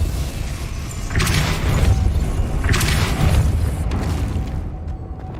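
Depulso spell cast in Hogwarts Legacy: two forceful whooshing blasts with booming impacts about a second and a half apart, over a rumbling background that fades at the end.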